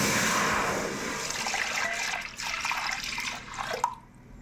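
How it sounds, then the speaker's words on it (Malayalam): Milk pouring into a hot uruli while making palada payasam, a steady liquid splash and sizzle that gradually fades, with no voices. "ഇതിലേക്ക് നമുക്ക് പാലൊഴിച്ചു കൊടുക്കാം"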